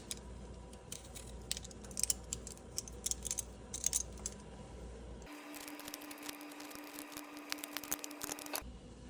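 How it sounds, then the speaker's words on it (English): Ginger skin being peeled with a hand peeler from a small knob of fresh ginger, heard as close, faint repeated scraping strokes with light clicks, no talk. "I'm going to take a little knob like this and my peeler, peel that skin off first"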